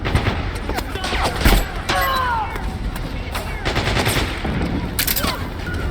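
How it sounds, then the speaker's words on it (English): Machine-gun fire in the Metal Gear Solid 4 video game, rapid bursts and scattered shots crackling over a busy battlefield backdrop, with one heavier burst standing out partway through and a few whistling tones mixed in. "Oh no, this is an MG."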